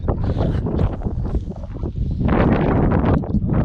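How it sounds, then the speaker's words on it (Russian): Strong sea wind on the Crimean coast roars and buffets close to the microphone in continuous gusts, loud and rumbling throughout. "Единственное, очень сильный ветер."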